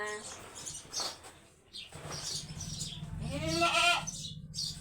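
Goats bleat in a rural farm setting during the rainy season, several wavering calls with the loudest near the end, over faint background noise and a low voice.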